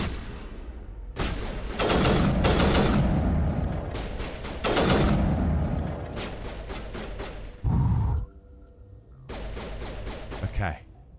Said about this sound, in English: Triple shot sniper rifle.